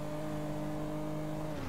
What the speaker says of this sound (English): Oh, there's cars down here.